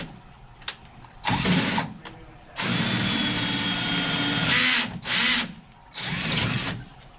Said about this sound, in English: Next step, drill the holes. So I've got a hole saw.